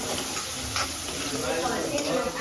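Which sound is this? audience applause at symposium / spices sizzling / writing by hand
spices sizzling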